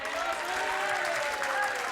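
An indoor bowls crowd at the 2015 Co-operative Funeralcare International Open breaks into loud, sustained clapping after a shot, with a voice talking over the applause.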